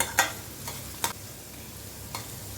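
Salted onions fry in a pan with a soft continuous sizzle, broken by several distinct stirring scrapes, heard close and quiet with no talk.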